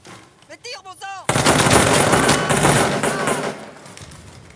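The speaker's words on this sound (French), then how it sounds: "Vite, vite, tire ! Mais tire, bon sang !" Loud, sustained machine gun fire in a war film erupts after brief shouted voices and keeps rattling steadily, close and dense, for the rest of the moment.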